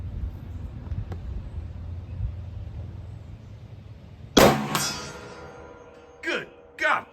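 .35 Whelen rifle with a longer barrel fired once outdoors, a single loud sharp report with a ringing tail over low background rumble, followed by two brief softer bursts.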